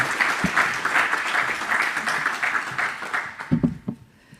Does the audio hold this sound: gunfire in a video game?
no